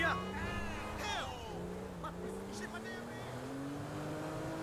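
Engine drone of a car being driven in the video game GTA V, a steady, fairly loud motor hum with shifting pitch and a brief skid-like sweep, with shouting voices over it.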